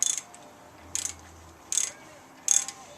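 A ratchet tightens a front brake caliper bolt on a 2014 Ford Explorer Sport, four short clicking ratchet bursts, close and evenly spaced, with quiet pauses between them.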